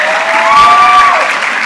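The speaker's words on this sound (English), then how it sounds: "A big, big hands of applause to these representations." Brief, dense applause from an audience at a school science event in a hall, loud and steady with a faint tone running through it.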